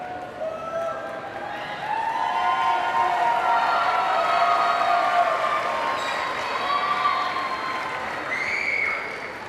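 A graduation audience at a high school ceremony breaks into sustained applause and cheering, a broad wash of crowd noise that swells after a couple of seconds and carries on steadily, with scattered whoops and voices rising above it.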